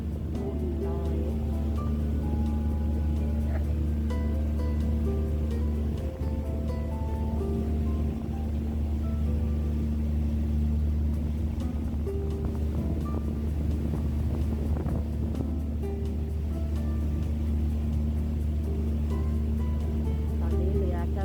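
A passenger ferry crossing the harbour toward Kowloon City in Hong Kong, steady low engine hum with a sustained tonal drone and wind rushing past, continuous and fairly close, with a voice faintly present beneath.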